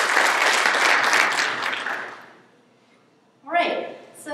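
A burst of audience applause, many hands clapping for about two seconds before fading, followed by a brief second swell of clapping.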